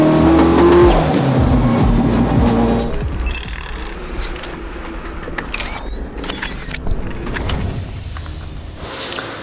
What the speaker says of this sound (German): Rückwärts ausparken im Auto, was eine Million kostet.